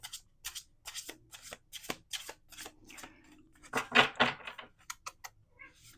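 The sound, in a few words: shuffling playing cards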